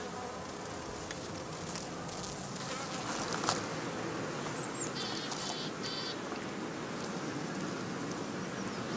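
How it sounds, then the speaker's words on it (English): Honey bees flying from the entrance of a straw skep hive, a dense continuous buzzing hum of many insects close by, steady for the whole span with individual bees droning past. "This allows the bees, as soon as they have arrived at the new site, to set out on their first orientation flight."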